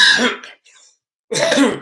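A short cough burst, then a faint pause, then another harsher cough, close up with no talking.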